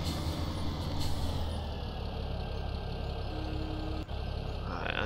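A tractor engine in a farming video game drones steadily and fairly loudly for several seconds. It has a brief dip near the end and no talk over it.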